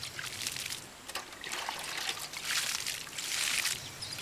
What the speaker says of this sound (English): it is important to maintain the moisture content by sprinkling water.